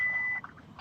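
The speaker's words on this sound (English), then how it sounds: "that was the alarm for the seatbelt" A car's seatbelt warning chime sounds as a single steady high electronic tone lasting under half a second, moderately loud inside the cabin, followed by quiet road noise.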